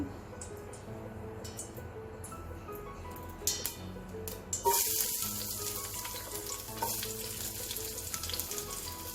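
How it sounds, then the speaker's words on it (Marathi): Mustard seeds and onion hit hot oil in a pan for a spicy vegetable curry, a crackling sizzle with sharp pops and spatters that swells loudly midway and then settles into a steady fry. "पॅनमध्ये तेल तापायला घेतलं आहे यात आपण आता थोडी मोहरी घालू कांदा घालू"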